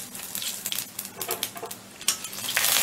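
Fennel, nigella and mustard seeds with dried chilli frying in hot oil, a bright crackling sizzle broken by irregular pops and spits that grow louder toward the end.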